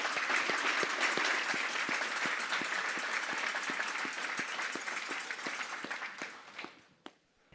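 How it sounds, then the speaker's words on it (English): A large audience at a company vision-day event applauds steadily, a dense wash of clapping with some distinct rhythmic claps, fading out over the last seconds to a few scattered claps. "One more round of applause for Sarah and her strength."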